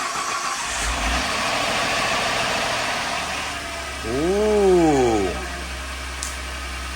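A 2013 Ford F150 XLT 3.5-liter twin-turbo engine, just fitted with a new timing chain and cam phasers, fires up and gives one quick rev that rises and falls before settling into a steady low idle. A person briefly exclaims.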